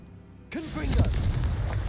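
Confringo blasting curse explosion in Hogwarts Legacy, a sudden loud burst followed by a rumbling, crackling tail with swooping magical tones.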